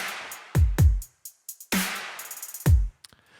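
Drum kit with kick, snare, toms and cymbals blended with an artificial room reverb, playing a short sparse pattern of heavy low hits and crisp transients with a roomy tail, no voices.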